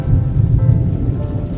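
Steady rain with low, rolling thunder rumbling throughout, a dense continuous wash close by with no voices, the kind of storm heard from a house at the edge of the rain.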